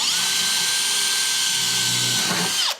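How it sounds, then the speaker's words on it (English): A power drill with a 1/8 bit whines at a steady high pitch for a couple of seconds drilling into a Land Cruiser's steel, close and loud, then spins down abruptly at the end. "Here's a 1/8 drill bit"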